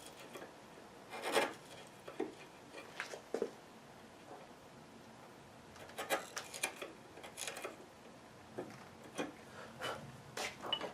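A small diagonal chisel pares wood in the corner of a dovetail on a Sheraton work table stretcher, giving short scraping rasps in irregular bursts with quiet pauses between them, close up.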